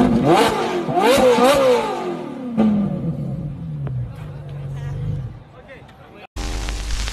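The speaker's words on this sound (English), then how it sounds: "Police watch as this car revs its engine." A car revs its engine loudly at close range while police look on, rising and falling in pitch before the sound shifts to a steadier rumble, with voices and crowd babble underneath.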